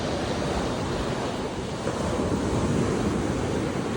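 Sea surf rolls in a steady, loud wash with gusty wind buffeting the microphone throughout, with no voices.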